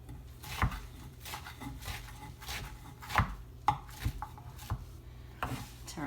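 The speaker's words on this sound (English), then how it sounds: "I just want them into small pieces. So I'm gonna go ahead and start cutting them." A knife chops jute leaves (lalo) into small pieces on a cutting board, with a steady run of soft, close thuds, some sharper strikes among them, and no talking.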